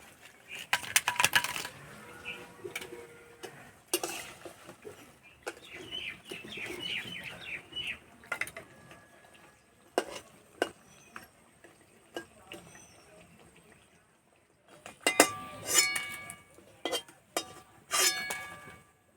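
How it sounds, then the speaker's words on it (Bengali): Crispy, freshly deep-fried nimki knock and clink against each other in a strainer, with scattered bursts of sharp, brittle clatter separated by quiet pauses, close and fairly soft. "এই যে আওয়াজ শুনে বুঝতেই পারছো কতটা মুচমুচে খাস্তা হয়েছে"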